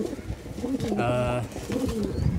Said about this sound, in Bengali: এই কবুতরগুলো হচ্ছে আপনারা যে কবুতরগুলো দেখছেন সামনে